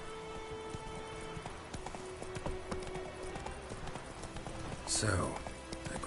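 The horse Roach gallops in The Witcher, its hooves beating a quick, steady clip-clop rhythm up close. A voice speaks over the hoofbeats, and a brief swoosh rises near the end.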